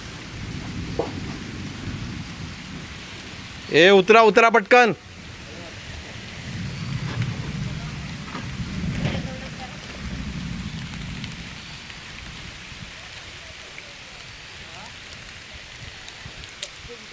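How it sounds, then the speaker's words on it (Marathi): Steady rain falls in Sangameshwar, Ratnagiri, in the Konkan, with a low rumble of thunder, broken midway by a brief burst of loud, tonal noise. "पाऊस पडतोय"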